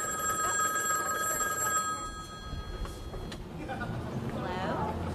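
A telephone bell rings loudly at first, then fades under a noisy background as a voice starts speaking.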